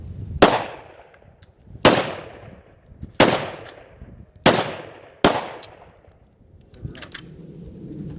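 Five loud gunshots from a bullet shooting test comparing Leatherhead and Missouri Bullet Company bullets, evenly spaced about every 1.3 seconds, each a sharp crack with a ringing decay, then a few quieter clicks and handling noises.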